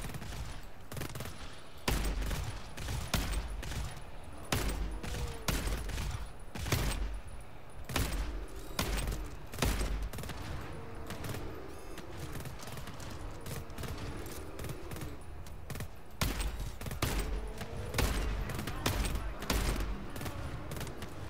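Gunfire in the video game GTFO: rapid sharp shots in short bursts and single rounds repeating throughout, close and loud, with occasional faint clatter between volleys.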